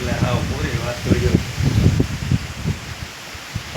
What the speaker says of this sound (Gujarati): ભાઈ હમણાં પવન નીકળ્યો છે, બીજી રીતનો પવન નીકળ્યો